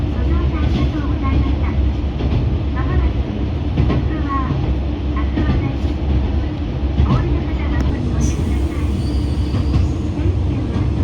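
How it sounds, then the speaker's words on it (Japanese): A single-car diesel railcar on the JR Etsumi-Hoku Line crosses the broad Fukui plain, its steady engine and wheel rumble filling the interior continuously, with faint voices in the background. "広大な福井平野を1両のディーゼルカーが力強く進んでいきます。"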